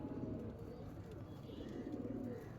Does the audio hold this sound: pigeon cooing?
yes